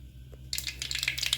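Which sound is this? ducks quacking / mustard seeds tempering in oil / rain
mustard seeds tempering in oil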